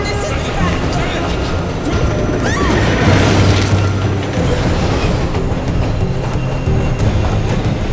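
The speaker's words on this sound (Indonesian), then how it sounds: "tiba-tiba terdengar suara kereta api." A loud, continuous rumble and clatter of a train passing close by, with metallic screeches and voices mixed in.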